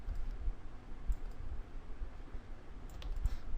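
A computer mouse clicking during graphic design work, a few soft, close clicks spaced irregularly over quiet background hiss.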